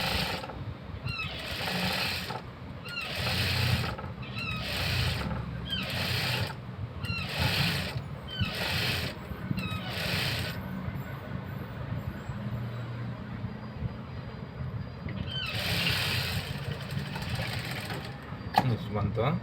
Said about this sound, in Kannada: ಇದನ್ನು ಫೋಲ್ಡ್ ಮಾಡಿ ಸ್ಟಿಚ್ ಹಾಕೋಣ.